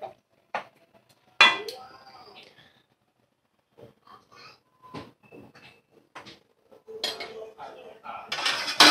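Clattering pot and lid handling around a chicken curry pot, with scattered metallic clinks and knocks at close range between pauses, ending in busier clatter.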